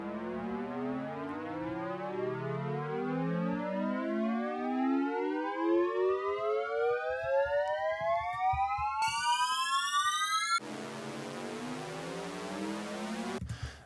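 In Logic Pro, a synth riser plays an augmented chord on a bright saw wave. Its stacked tones sweep steadily upward for about fourteen seconds and thicken near the end, loud and alone.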